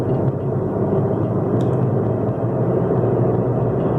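A car engine drones steadily from inside the cabin, with a dense low rumble and road noise that stays loud and even throughout while the car runs in third gear and accelerates.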